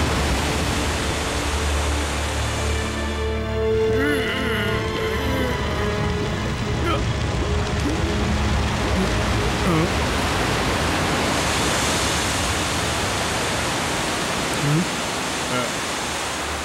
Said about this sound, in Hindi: चलो ब्लेड्स, अब पानी गिराओ